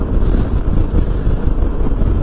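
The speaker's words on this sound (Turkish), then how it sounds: "Rüzgar başladı da çok rahatsız etmiyor." Steady, heavy wind buffets the microphone with a low, rumbling roar while riding a Suzuki Burgman 200 scooter, fluctuating slightly but never letting up.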